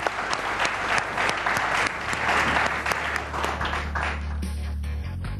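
A studio audience at a live cricket talk show claps loudly for guests coming onto the stage, producing dense, sustained applause that tails off at the end.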